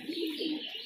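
Domestic desi high-flying pigeons coo close by, two soft, low, rolling calls in quick succession.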